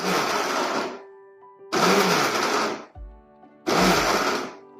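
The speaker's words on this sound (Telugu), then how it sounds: "ఉల్లిపాయలు వేసిన తర్వాత కూడా రివర్స్లో తిప్పుకుందాం మిక్సీని" A mixer grinder runs in three loud, short bursts separated by brief pauses, its whirring motor pulsing on and off.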